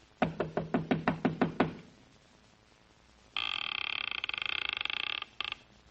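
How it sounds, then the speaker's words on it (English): Knocking on a wooden door in a deserted Mexican town, with about eight quick, evenly spaced raps. After a pause comes a steady buzzing ring, with no voices. "I finally took a chance and knocked on a door"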